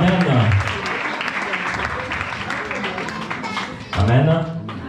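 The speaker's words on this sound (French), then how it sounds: "Est-ce que tu peux acclamer, bien-aimé?" A church congregation at an evangelical centre's anniversary service applauds loudly and continuously, with a voice speaking over the clapping at the start and end.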